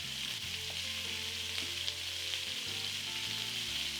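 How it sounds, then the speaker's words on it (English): Onions frying in oil in a pan, a dense continuous sizzle held at an even level throughout with a low background hum, no talking. "Now into this pan, add some oil. Quickly add the onions"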